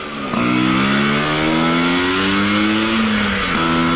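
A Vespa Sprint scooter, newly fitted with a PWK carburettor, revs up loudly and close on a test ride, its engine note climbing steadily through first gear, then dropping briefly and rising again as it shifts.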